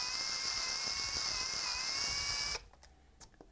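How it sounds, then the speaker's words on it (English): A power drill spins a step drill bit to chamfer the top edge of a hole, giving a steady, loud high-pitched whine for over two seconds that then cuts off abruptly, followed by faint handling noises. "I'm actually going to use the step drill bit to make a slight chamfer in this top edge"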